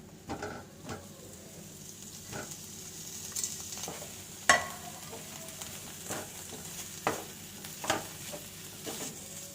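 Paneer cubes being stirred into sizzling masala in a pan, with steady frying hiss under irregular scraping stir clicks and one sharper knock, close and moderately quiet.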